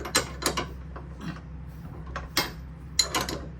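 Wrench loosening a 17 mm screw on a sway bar link of a 2010 Infiniti FX35, heard as several sharp metallic ratcheting clicks and clanks in short bursts, close up with no talk.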